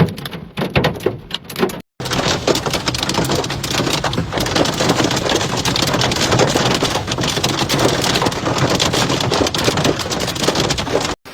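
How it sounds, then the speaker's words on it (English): Heavy hailstorm in Verona, Italy, heard as a loud, continuous hammering of hailstones on surfaces after a brief pause, close and dense, with occasional rumbles underneath. "the sound of hail grew louder"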